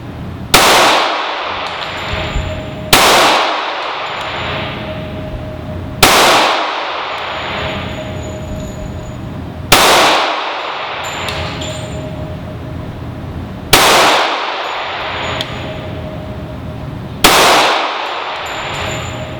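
Six loud, evenly spaced gunshots from a Smith & Wesson M&P Shield 45 pistol at a shooting range, each sharp crack followed by a ringing decay, no talking.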